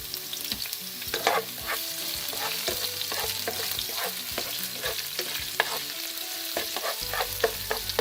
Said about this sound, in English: I'm going to saute this on fairly high, medium to high heat till your onions are lightly browned